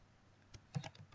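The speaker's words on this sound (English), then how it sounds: "Okay, so again I just type an example for this." Brief bursts of typing on a computer keyboard while entering an Apache server configuration example: a handful of quiet, irregular key clicks close by, with no voices.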